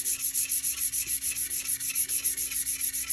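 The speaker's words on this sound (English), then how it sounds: "when you're sanding, you're going to go very lightly" Light back-and-forth hand sanding scuffs off a factory coating, a rapid, regular rasping stroke about six times a second, close and steady, with no talking.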